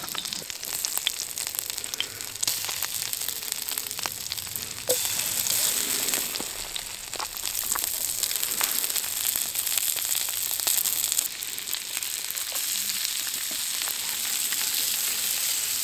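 Onions fry in a pan with a constant hissing sizzle and scattered crackles during a freezing overnight camp, steady and fairly close throughout, with no talking.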